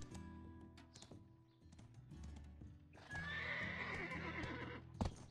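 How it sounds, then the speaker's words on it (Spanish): A horse in the video game Black Desert clip-clops with quiet hoof taps and clicks, then lets out a loud, drawn-out whinny near the end, followed by a sharp thump. "Mi caballo Ferrari, si lo sé, lo llamamos Ferrari"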